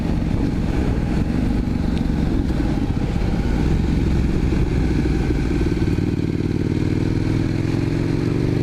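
A KTM 1290 or Indian FTR 1200 motorcycle cruising in gear around 50 mph, its engine giving a steady, smooth, close low drone with wind rush and no voices.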